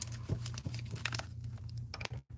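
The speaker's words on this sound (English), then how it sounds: "Let me get a few shuffles here." Tarot cards are shuffled by hand in a quiet room, giving a run of soft crinkly riffles and taps close up, with a low hum underneath and a brief pause near the end.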